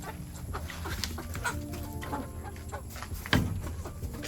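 Chickens cluck softly nearby in a busy farmyard, with scattered clucks and faint background noise, one sharper sound standing out briefly.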